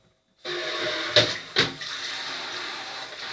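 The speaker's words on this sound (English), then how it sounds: "Just giving it a quick rinse." Water from a tap rinsing out the plastic water container of a Nescafe Dolce Gusto Oblo coffee machine after descaling, a steady close rush of running water with two brief louder splashes, no talk.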